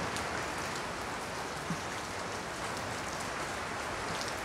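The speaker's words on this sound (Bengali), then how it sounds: "যে রাতে তিনের চালে রিমঝিম বৃষ্টি" Rain drums steadily on a tin roof at night, a dense, even wash of pattering with no pauses, close and continuous throughout.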